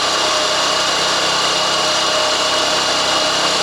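A cordless drill spins an old 6-volt G414 generator at full speed, producing a loud, steady, high-pitched mechanical whine that holds constant without a break.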